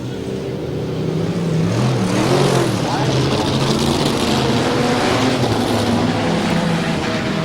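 Super modified race cars roar around a speedway oval, their engines a dense, continuous drone with rising and falling pitch as the field passes, loud and steady beneath a commentator's voice.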